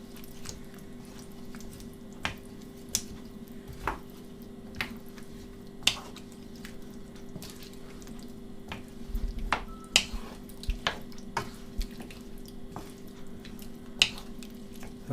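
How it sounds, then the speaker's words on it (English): Organic vegetable curry is stirred in a pot, giving faint, intermittent wet squelches and light spoon clicks against the pot, spaced irregularly over a quiet background. "just stir, make sure that it's all nicely mixed"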